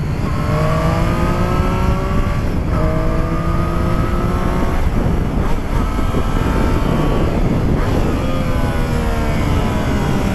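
A Triumph Street Triple S 660 motorcycle engine braking on the road, loud and close, the engine note repeatedly dropping in pitch as it slows between gear changes, under steady wind noise.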